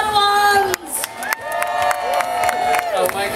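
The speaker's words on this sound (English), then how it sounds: "How about another big round of applause for all of our young Padawans?" A crowd at a Star Wars Weekend event cheers and claps for young Padawans, with whoops and children's shouts mixed among loud music tones and a brief drop near the start.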